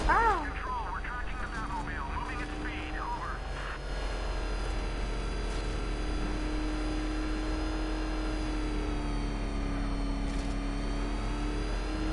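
In a Batman video game, a car engine drones steadily as it drives, its pitch rising and falling with acceleration, while people talk over it in the opening seconds.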